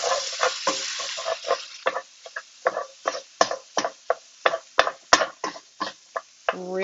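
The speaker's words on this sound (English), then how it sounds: "I am going to double check this meat. Give it a stir over." Sausage meat being stirred in a hot pan: repeated close scraping strokes of a utensil at an uneven, quick rhythm over a steady sizzle, with no talking.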